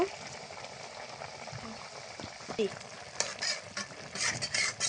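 Fish and water going into a simmering mola fish curry, a soft bubbling and stirring with faint sizzles, wet clinks and scraping spoon sounds, growing busier toward the end.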